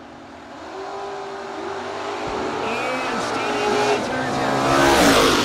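Drag race cars launching at a no-box event, an Oldsmobile and a wheel-standing Mustang: loud engines rising in pitch as they pull away, with an announcer talking over the roar.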